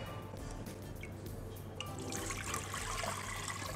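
Water pours into a cooking pot for boiling rice in a home kitchen, a faint, steady splashing trickle that grows a little fuller toward the end, with no talk.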